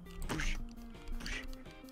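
A duck in the FNAF Mysteries Rebooted video game gives two short, nasal quacks about a second apart, close and clear against a faint background hum.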